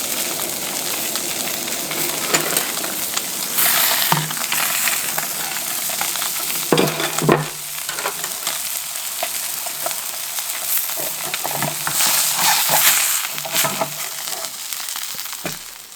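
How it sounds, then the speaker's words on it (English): Blackfish skin searing in a pan over high heat, a loud continuous crackling sizzle that swells and spatters, with occasional scrapes and knocks. "You want to crank the heat right up at the end so that you sear that skin."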